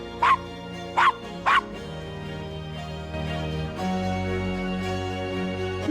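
Three quick, close dog barks in the Gabriel Knight: Sins of the Fathers video game, followed by a low, sustained musical drone.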